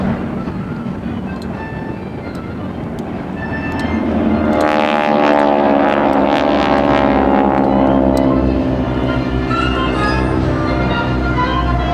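Low-flying jet aircraft at the Blue Angels homecoming airshow, a loud roar swelling in over a few seconds then holding steady as the planes pass close overhead, with faint talk in the background.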